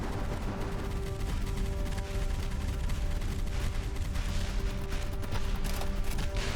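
Rockets fire from a boat in the naval combat game Boat Crew, a dense, loud, continuous barrage of launches and gunfire roaring steadily for several seconds without pause.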